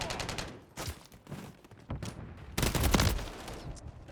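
Bursts of gunfire in Call of Duty: Modern Warfare 3 on the snowy Incline map rattle in quick volleys with short pauses between, loudest toward the end, with no talking.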